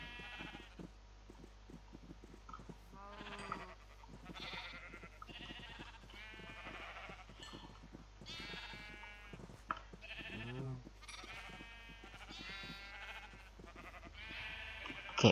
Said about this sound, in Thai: แกะเยอะไปเปล่าวะ